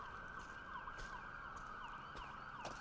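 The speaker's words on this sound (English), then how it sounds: "That's a lot of sirens." Several emergency sirens wail outside, heard faintly from a distance and layered over one another, with a steady high tone and sweeping glides running throughout and no talking.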